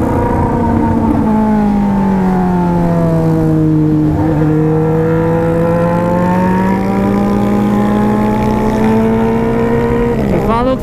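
A delivery motorcycle ridden on roads in Brazil's Federal District drones loudly and close, its engine pitch sagging and then climbing slowly as the rider accelerates, with a brief louder surge near the end.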